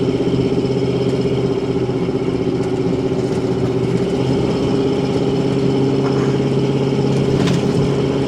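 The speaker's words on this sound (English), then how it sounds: "I really like driving this truck. It's a very comfortable truck to cruise." A 1985 Chevrolet K10 pickup on new tires cruises along with a steady, unbroken low engine drone and road rumble from start to finish, with no talk.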